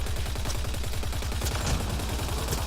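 Rapid sustained gunfire from Mass Effect Andromeda, a dense continuous burst of automatic shots at steady rhythm, loud and close throughout with no talking.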